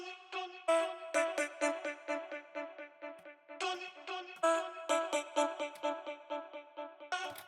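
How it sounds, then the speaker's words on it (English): Short, bright vocal chops play in a quick rhythmic pattern, pitched syllables stuttering on and off with no other instruments. "Then I have created some small vocal chops,"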